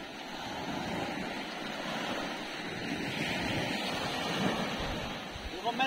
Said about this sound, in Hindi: आगे का अभी दिखाता हूँ आपको कि जो समुद्र की लहरें वो कैसे मतलब अपनी और खींचती है